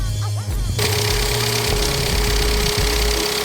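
The diesel engine of a 2007 Kia Pride hatchback idling in the engine bay: a steady, close, loud rumble with a faint knocking texture, running evenly throughout under a brief handling noise at the start.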